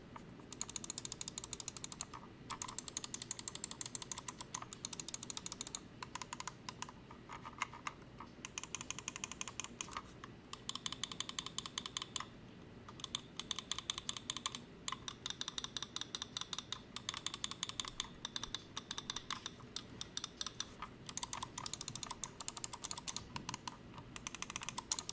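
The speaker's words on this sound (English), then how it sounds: "This hard plastic design does make the mouse a little bit louder than most other mice, but it is a pretty satisfying click" Buttons on an ASUS TUF M5 gaming mouse with hard plastic shells and Omron switches click over and over, sharp, close and dry, in quick irregular bursts with brief pauses, and no talking.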